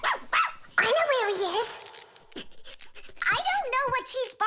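A cartoon dog barks and yips in short excited bursts, close and clear, with animated voices speaking around the barks.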